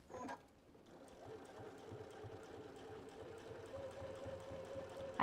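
A sewing machine with a stitch-in-the-ditch foot stitches a cathedral window quilt block for an envelope pillow, a quiet, steady, rapid mechanical chatter that runs without pause and is faint overall.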